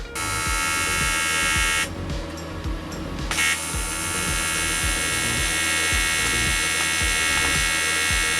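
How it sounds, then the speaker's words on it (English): A TIG welder arc buzzes steadily while working on a custom ebike frame, a bright harmonic hum broken by a short gap, with faint rhythmic clicks underneath. "My first time TIG welding went quite bad"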